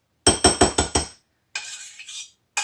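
A spoon clinks against a bowl five times in quick succession as creamy oatmeal is served, followed by a softer scraping rattle and another brief clink at the end.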